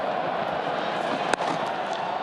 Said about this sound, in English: Mel's being drowned by the noise the crowd's making